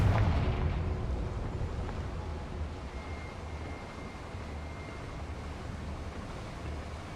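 A Confringo fire spell explodes in Hogwarts Legacy with a heavy boom at the start, then a long rumbling roar that fades slowly and stays loud and even.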